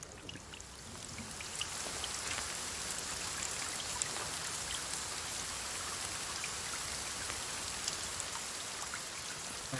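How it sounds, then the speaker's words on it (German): Steady rain patters continuously in the video game The Forest, with dense drops and light splashes, moderately loud and even throughout, with no voices. "Ah, es regnet wieder."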